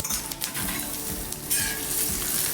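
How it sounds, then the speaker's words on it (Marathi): Green chillies roast in a little oil on a griddle, making a steady close sizzle with gentle stirring and scraping sounds. "हलक्या हाताने मिरच्या आपण भाजून घेऊया"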